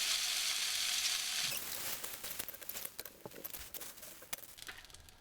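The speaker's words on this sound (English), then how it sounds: "Now that we have fried the capsicum" Capsicum stir-fries in a very hot pan for Afghani borani banjan, first a loud, steady sizzle, then quieter crackling broken by quick stirring scrapes and taps, close by.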